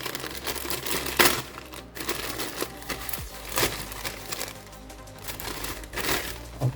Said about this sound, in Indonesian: Oke, itu langsung saja kita unboxing.